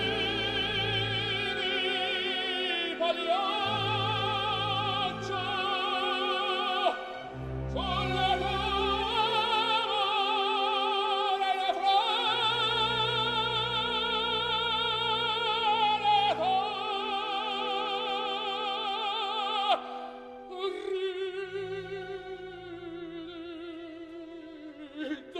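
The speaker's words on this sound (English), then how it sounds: "If gothic ambient was a genre, it would probably sound something like this." Darkwave, gothic-ambient music with a theatrical, near-operatic feel. Dense sustained harmonic layers swell over deep pulsing low tones, with brief breaks near the middle and toward the end.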